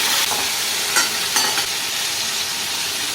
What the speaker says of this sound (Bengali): আর দেব পাঁচ ফোড়ন ফোড়নটা হয়ে যাওয়ার পর আমি ফুলগুলোকে ছেড়ে দিলাম